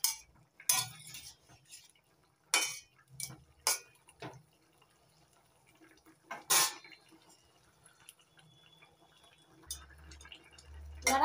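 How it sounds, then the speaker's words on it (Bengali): A spoon stirs curry in a cooking pot, giving a series of sharp, close metallic scrapes and clinks spaced irregularly between quiet gaps, with soft liquid sounds underneath. "এবার একটু নাড়াচাড়া করে দিচ্ছি।"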